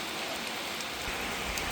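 Steady rain falls on a farm, a dense, even hiss of drops on surfaces that stays constant throughout, with no voices.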